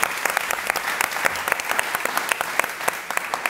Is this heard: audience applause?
yes